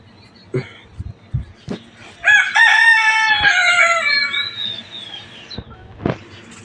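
A rooster crows loudly and close by in one long, drawn-out call, framed by scattered thumps and knocks before and after.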